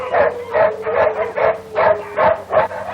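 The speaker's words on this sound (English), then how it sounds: "What's all the barking about?" A dog barks repeatedly in quick bursts, about eight sharp yips in a row, loud and close, with no talking.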